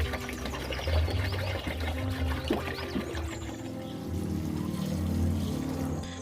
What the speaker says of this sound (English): we will just pour all the water out to this large tub